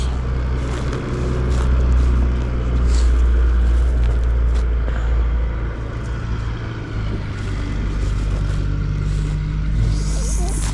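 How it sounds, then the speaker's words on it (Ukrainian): An old earth compactor (tamper) working the ground, giving a steady, close, low engine rumble with a constant droning hum that runs without a break. "Землю риє. Прикольно. Ось такий утрамбовувач."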